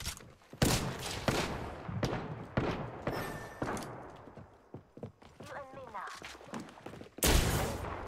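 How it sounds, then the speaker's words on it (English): Bursts of video game gunfire crack out in loud, sharp volleys, spread irregularly across the stretch, with a final heavy burst near the end. "Opening fire."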